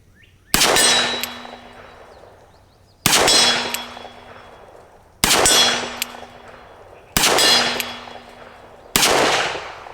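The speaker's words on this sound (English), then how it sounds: "Let me go over here and shoot this one at 35." Five loud, sharp gunshots from a Smith and Wesson 629 revolver firing .44 rounds at an outdoor range, each blast followed by a long ringing decay, spaced about two seconds apart.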